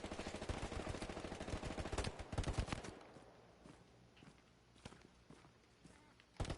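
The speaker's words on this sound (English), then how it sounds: "I hear footsteps. Oh, I'm being shot at." Rapid footsteps and bursts of gunfire in the World War II shooter Hell Let Loose, loud and dense at first, then thinning to quieter, sparser shots and steps.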